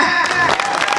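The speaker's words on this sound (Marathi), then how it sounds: "टाळ्या वाजवा तिला का?" A brief burst of audience applause, loud and close, with claps crowding together.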